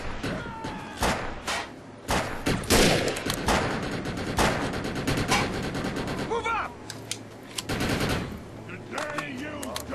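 Rapid bursts of gunfire from the shooter game Defiance, played on Xbox 360, crackle in dense repeated volleys and single loud shots across the whole stretch, with faint game voices and effects underneath.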